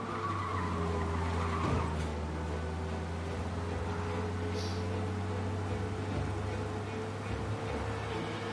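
A car skids in the video game Mafia while fleeing police, with a long, steady tire screech over a constant engine roar that fills the whole stretch.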